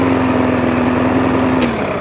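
A small engine idles after a carburettor adjustment and is still running slightly on choke, giving a loud, steady buzzing putter close by whose pitch holds level and then dips slightly near the end, with no voices.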